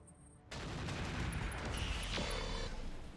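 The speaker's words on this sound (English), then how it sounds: "Firing full complement on the enemy" Mech weapons unleash a full volley in the mech combat game RogueTech, a sustained dense roar of overlapping gunfire and blasts that kicks in abruptly and holds steady and loud, with a higher whine cutting through near the end.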